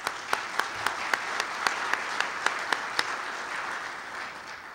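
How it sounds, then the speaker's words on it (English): An audience at an ASNE Day 2015 event applauds Tim Nichols, a dense, even patter of many hands with a few sharper individual claps standing out, continuing at moderate distance. "let's give a round of applause to Tim"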